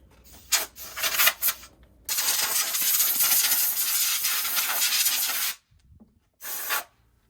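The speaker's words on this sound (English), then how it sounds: "taking the hose, air compressor hose from the shop" Compressed air from a shop air compressor hose, used while readying a Case IH planter, hisses in a few short spurts, then a steady close blast of about three and a half seconds, and a final brief burst.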